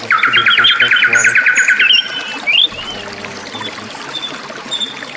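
Small flock of canaries bathing in fresh water, a bright rapid trill of chirps up front followed by scattered tweets and soft splashing, close and clear, with a brief spoken phrase.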